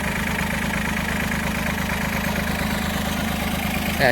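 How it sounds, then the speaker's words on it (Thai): A farm sprayer truck with a 20-metre boom idles close by, a heavy, steady low rhythmic rumble like a tractor, with no break throughout. "โอ้เสียงรถไถยังไงอย่างนั้นเลยนะครับนี่"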